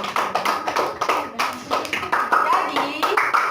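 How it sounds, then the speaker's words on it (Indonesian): An elementary classroom of pupils claps in a quick rhythmic burst for a classmate, with voices mixed in. "tepuk tangan buat Solia"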